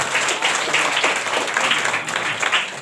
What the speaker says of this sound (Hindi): ताली बजाए आप लोगों के लिए।